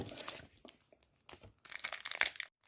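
Plastic packaging around a Lego Ninjago figure and trading cards is torn open and crumpled up close, in short crinkly bursts with brief pauses between them.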